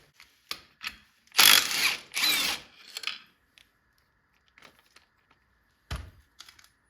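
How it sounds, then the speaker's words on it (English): Quick bursts of ratchet clicking while backing out the clutch bolt on a Polaris Sportsman ATV, several short close rattling runs separated by pauses and small metallic taps. "we gotta take our bolt out for the clutch"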